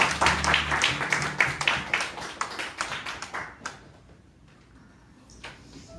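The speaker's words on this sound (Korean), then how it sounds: "우리 하나님께 영광의 박수 올리겠습니다." A church congregation at a Korean worship service claps in praise: a brisk burst of many hands for about three seconds that thins out and fades into near quiet. No one talks over it.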